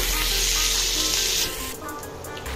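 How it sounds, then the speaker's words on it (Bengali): Butter and pav bhaji sizzling on a hot tawa, a loud close hiss that fades after a moment into softer, uneven crackling. "তাওয়া যে আছে চড়িয়ে দিয়েছি, এর উপরে দিয়ে দিচ্ছি একটু বাটার"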